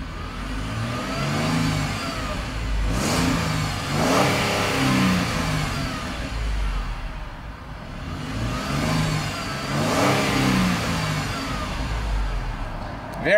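A 2015 Ford Transit 150 cargo van engine revs up hard twice, climbing quickly until it bounces off the rev limiter around 4,000 RPM, then drops back to idle between the pulls.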